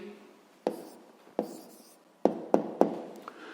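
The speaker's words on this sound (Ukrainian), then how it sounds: "Записуємо відповідь." A pen writes out the answer to a sixth-grade math exercise on paper, giving five crisp taps and short scratchy strokes in an uneven rhythm, close and quiet with no talking.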